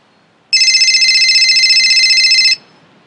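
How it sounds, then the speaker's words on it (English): A telephone rings in one continuous electronic trill lasting about two seconds, loud and close, with fast pulsing warble and silence before and after. "It's the phone."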